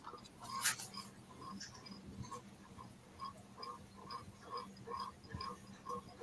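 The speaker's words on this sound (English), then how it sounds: "I hear crickets." Crickets chirp steadily in short, evenly spaced pulses, faint and somewhat distant over a low background hum, with one sharp click early on.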